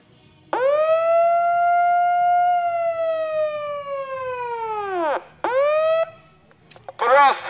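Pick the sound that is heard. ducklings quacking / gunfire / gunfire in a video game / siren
siren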